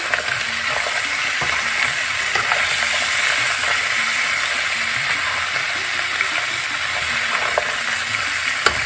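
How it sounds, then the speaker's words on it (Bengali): Drumstick pieces (moringa) frying and being stirred in a pan for Bengali shukto, a steady close hiss of sizzling oil with scattered scraping and clicking of a spatula throughout. "সজনে ডাঁটা দিয়ে দিলাম। একটু নেড়ে"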